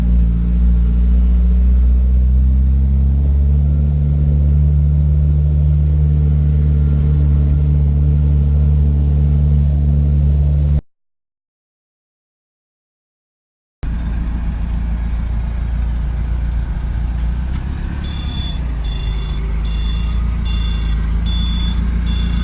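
Scion FR-S engine on a drive, a steady low rumble with droning harmonics and road noise, briefly cut by a gap, then resuming with a pulsing series of high electronic beeps.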